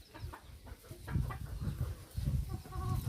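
Chickens cluck and bustle close by while pecking at maize cobs in an open farm field, with steady overlapping clucks and scuffling.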